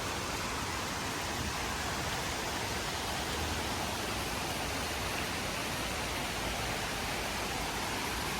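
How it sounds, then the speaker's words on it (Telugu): A hidden waterfall near Columbus sounds as an unbroken, dense roar of falling water, loud and steady with no other sounds and no voices. "వాటర్ ఫాల్ సౌండ్ క్లియర్గా మాకైతే వినబడుతుంది"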